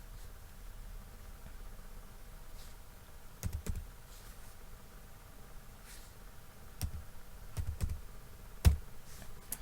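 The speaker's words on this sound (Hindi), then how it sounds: "फिर से कीबोर्ड से अपने टैब यूज कीजिएगा ताकि सामने आ जाए" Scattered keystrokes and clicks on a computer keyboard while building a resume in MS Word 2019, sparse and fairly close over a quiet hiss.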